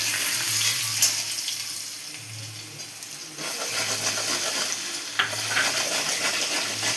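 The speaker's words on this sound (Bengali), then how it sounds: "রসুনটা যতক্ষণ কাঁচা গন্ধ না যাবে ততক্ষণ আমি একটু ভেজে নেব" Garlic frying in hot oil in a pan after potatoes, for a rohu fish curry, making a steady close sizzle with stirring scrapes and a couple of sharp metallic clinks.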